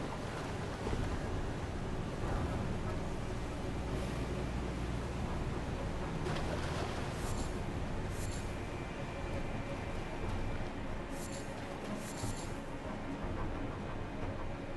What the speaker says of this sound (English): That's a waterfall.